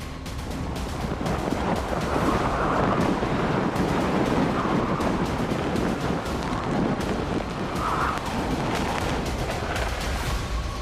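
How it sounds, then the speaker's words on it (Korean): Typhoon Maysak lashing Busan at night with violent wind and heavy rain: a loud, unbroken roar of gusting wind and pelting rain, with sharp crackling bursts and low rumbling buffets throughout. "몸을 가누기 힘들 정도의 비바람이 불고 있습니다."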